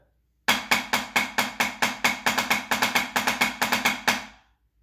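Crisp snare drum double-stroke rebounds bouncing in quick even groupings, a steady run of eighth and sixteenth notes played alone in a gallop pattern, close and moderately loud.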